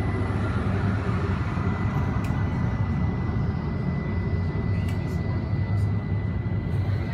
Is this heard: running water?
no